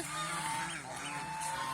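Large domestic geese honk on a goose-rearing farm, a steady run of nasal calls overlapping close by with no voices.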